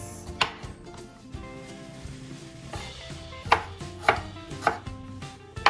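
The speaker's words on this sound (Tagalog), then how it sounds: "So 3 cloves of garlic, and then ginger. You have to slice this." Knife slicing through fresh ginger on a cutting board during fish preparation, a few sharp, close chopping knocks spaced about half a second apart, with quieter board taps earlier.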